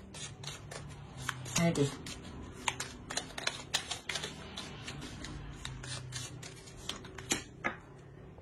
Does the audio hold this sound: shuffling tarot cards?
yes